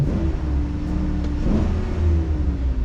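A van's engine idling and running smoothly, a steady low rumble with a faint rising whir, close by and continuous with no talking.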